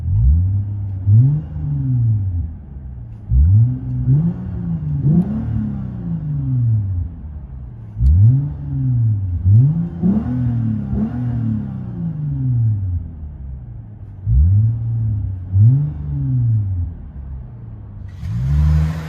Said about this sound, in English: Lexus IS 250 with a vibrant mid and Megan Racing rear.